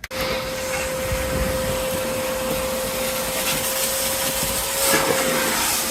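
A shop vacuum roars steadily and close, sucking up metal drilling shavings; its constant whine holds a single pitch while the shavings rattle and scrape through the hose. Nobody speaks.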